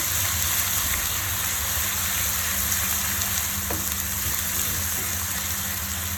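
Onions sizzle and fry steadily in a pan with garlic and ginger paste for brinjal bharta, a continuous close, even hiss with a low hum underneath and no talk.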